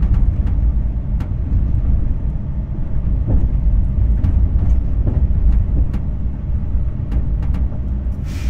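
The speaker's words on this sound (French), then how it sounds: "C'est le passage en voie déviée sur cet aiguillage qui justifiait la présence de ce ralentissement à 30 km/h." BB 22200 electric locomotive passing over a switch onto a diverging track toward platform 3, heard from the cab at slow speed: steady loud rumble with repeated sharp clacks of wheels striking rail joints and frog at irregular intervals.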